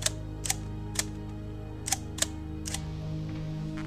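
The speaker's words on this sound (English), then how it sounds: "you flip the lever to closed, and then when you activate the button, you time it, and that's how it works" A studio camera shutter snaps with sharp, close clicks, six or so spaced irregularly over a few seconds, above a steady low hum.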